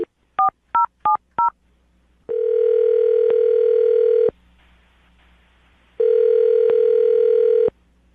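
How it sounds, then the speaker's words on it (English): Telephone keypad dialing a number: four quick dual-tone beeps, then two long, steady ringback tones separated by a pause, close and clear on the line. "I'm about to dial the phone number and get her on the phone"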